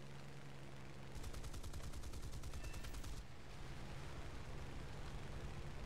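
A Spitfire Mk Vc's guns rattle in a dense rapid burst for about two seconds in War Thunder, rising above a steady roar of engine and wind noise that continues before and after the firing.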